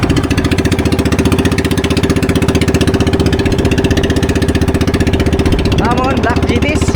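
A boat engine idles steadily while trolling, loud and close with an even chugging throb throughout, and people talk over it.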